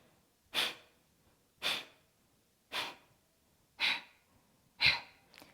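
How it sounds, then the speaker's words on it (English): Five sharp, forceful exhales through the nose during abdominal diaphragmatic breathing in a beginners yoga session, spaced roughly a second apart and fairly close, each a short breathy burst with no talking. "we're going to do some abdominal breaths or diaphragmatic breathing"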